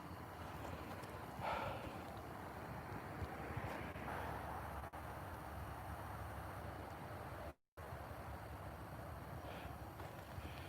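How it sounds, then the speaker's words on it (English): Cold night wind gusting over a lake during fishing, heard as a steady broadband rush with a few swells and one brief dropout. "That wind is coming in. It hits. It's like hitting my face, and then it just stops"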